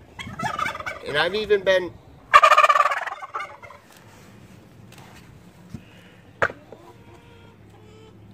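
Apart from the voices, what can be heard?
turkeys gobbling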